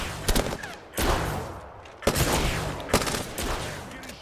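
Gunfire in the video game Apex Legends: loud, close bursts of rapid automatic shots in several volleys, with sharp impacts between them and no speech over them.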